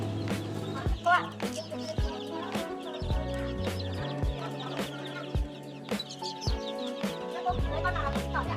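Mía chickens at a market poultry stall cluck and squawk repeatedly, close and busy, a dense flock chattering continuously with occasional louder calls.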